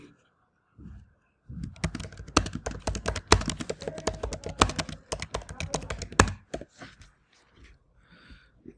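A website tagline being typed on a computer keyboard while setting up a WordPress site: a dense, fast burst of close key clicks lasting several seconds, then a few scattered taps as it trails off.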